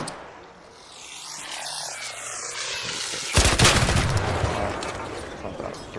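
Burst of gunfire in a video game cuts in sharply over a droning, engine-like background, then rattles on loudly and densely to the end.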